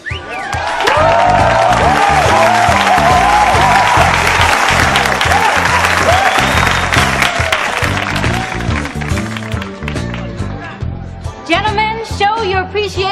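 Audience applause and cheering at a live show for a performing group, loud and sustained for most of the clip with music-like tonal bands beneath, then a short burst of voices near the end.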